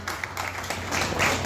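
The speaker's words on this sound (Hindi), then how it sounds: "जोरदार तालियों के साथ स्वागत करेंगे" An audience at a music lovers' society Friendship Day eve event gives a guest a welcome with continuous applause, a dense, steady patter of many hands clapping together.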